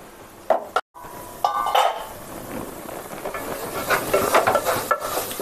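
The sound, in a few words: lid put on a pot of cooking carrot beetroot halwa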